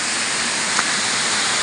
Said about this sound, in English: Look at the waterfall.